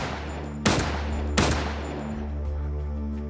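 Two sharp, loud gunshots in a crime reenactment, spaced under a second apart, each cutting through a steady low background hum.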